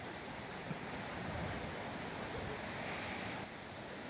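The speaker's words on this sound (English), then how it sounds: "It's wonderful to watch all these crashing waves and the sprays that go higher than any other time of the year." Ocean surf crashing at Spouting Horn on the rocky shore of Cape Perpetua, a loud, continuous roar of breaking waves and spray with wind buffeting the microphone, steady throughout with no voices.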